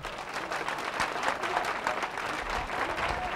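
Studio audience applause at a Turkish TV talk show in Bodrum, steady dense clapping throughout at moderate distance, filling the room without a break.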